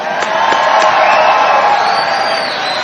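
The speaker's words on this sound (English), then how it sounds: "Let's give them all a round of applause." Crowd at a political rally in Houston cheering and applauding for pastors and spiritual leaders, a loud sustained roar of voices with a few whoops, continuous across the moment.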